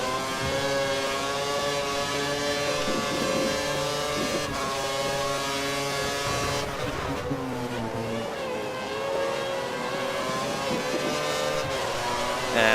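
Sauber Formula 1 car engine at full revs in the F1 2013 racing game at the Spanish circuit, a loud, sustained high-pitched whine with gear changes and shifting pitch, near and continuous.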